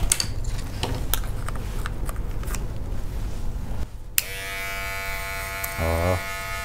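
A cordless Moser electric hair clipper hums steadily after its cord is removed, a close, even motor buzz that starts partway through, following softer handling clatter and a few clicks.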